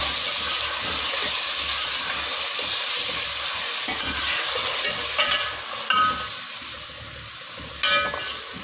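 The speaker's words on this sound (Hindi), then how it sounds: "और अच्छी तरह से मसाले को भून लूँ।" Tomato and garlic-ginger paste with spices frying in a pan for aloo baingan, a steady loud sizzle and hiss with occasional spoon scrapes and stirring clatter, close and without talk.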